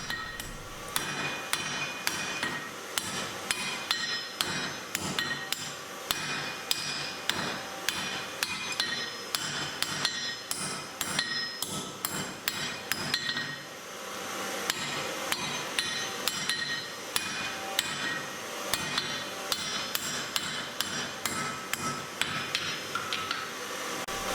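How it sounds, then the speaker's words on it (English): A blacksmith's hammer rings on hot steel at the anvil, striking steady repeated blows that forge a scarf on a 12 by 12 mm bar to prepare a forge weld for U-box tongs, loud and close throughout. "I'm forging the scarf and preparing it for the weld."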